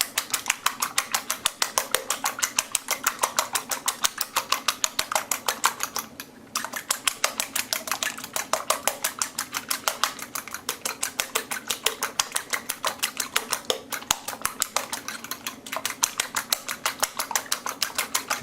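Rapid, steady clicking of a whisk beating eggs with milk, the metal tapping the bowl in a fast, even rhythm throughout, close and fairly quiet, with a brief pause partway.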